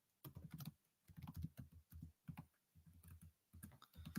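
Quiet, close typing on a computer keyboard in irregular bursts of rapid clicks, separated by short pauses.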